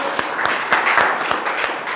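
A school result celebration audience claps together in a brisk, steady burst of applause, moderately close and continuous.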